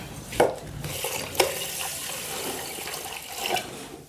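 Water is poured into a cooking pot for mudda pappu dal, filled up to a hand-span mark, with a few splashy bursts over a steady trickling wash.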